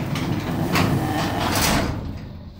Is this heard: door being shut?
yes